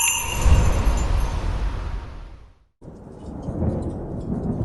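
A thunderstorm with rain: a heavy, loud rumble of thunder rolls out and fades to a brief silence, then steady rain hiss returns.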